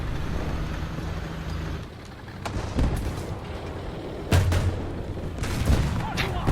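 An anti-aircraft gun fires in a video game, a Crusader self-propelled anti-air vehicle, with a couple of sharp booming shots over a steady low engine rumble, the loudest arriving partway through.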